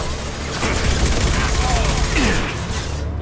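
Continuous loud gunfire in Mass Effect 2 combat, a dense, unbroken barrage of shots and impacts with a voice calling out underneath.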